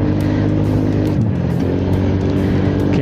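A Honda Click scooter running with a noisy, worn CVT transmission, a loud, continuous engine drone whose pitch sags and then climbs again midway, heard close up with no talking.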